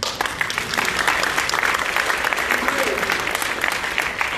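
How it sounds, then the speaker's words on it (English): An audience at a scientific talk claps, a dense, even round of applause from many people that runs steadily and fairly loud throughout, with a faint voice briefly underneath. "thank you, let's clap"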